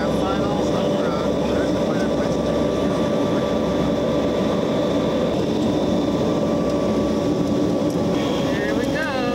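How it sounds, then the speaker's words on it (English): A small airplane with 22 degrees of flaps on final approach to land at Pond Inlet gives a loud, steady propeller-engine drone inside the cabin, continuous throughout. "We're coming in with 22 degrees of flaps, coming down on our final approach."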